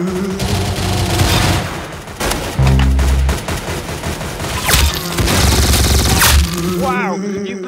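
Rapid bursts of gunfire from the video game Arsenal, dense volleys and booming shots packed close together throughout, loud and continuous with brief gaps between clusters.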